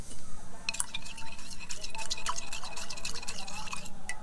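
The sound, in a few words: stirring food colour into water in a glass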